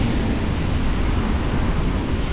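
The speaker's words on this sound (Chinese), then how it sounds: "今天浪也很大，海浪是斜斜的打过来" Big sea waves roll in at an angle and break on the shore of Little Liuqiu island, a steady close wash of surf mixed with strong wind buffeting the microphone.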